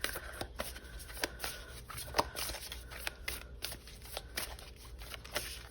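A tarot card deck being shuffled, giving a steady run of soft papery riffles and flicks with sharper snaps throughout, close and fairly quiet, with no talking.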